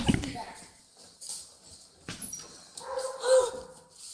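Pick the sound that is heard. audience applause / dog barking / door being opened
dog barking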